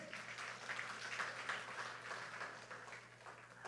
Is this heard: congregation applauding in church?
yes